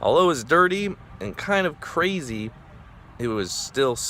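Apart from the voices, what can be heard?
No everyday noise stands out behind the speech.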